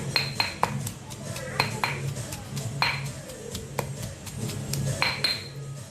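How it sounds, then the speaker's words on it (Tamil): Six unpeeled garlic cloves and a small piece of peeled ginger pounded for a fish dry roast: repeated sharp knocks with metallic clinks at an irregular pace, close and fairly loud, with some talk in between. "பூண்டு 6 எடுத்து தோலோடு சேர்த்து தட்டிடுறேன்"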